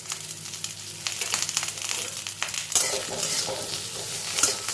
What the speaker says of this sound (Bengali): এগুলো দিয়েও মশলার সঙ্গে কিছুক্ষণ নাড়াচাড়া করে নেব।